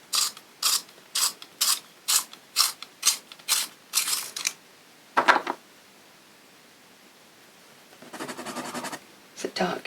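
A pencil turned in a sharpener, giving a regular series of about a dozen rasping grinding bursts, then a pause and a longer, softer scrape, close and alone.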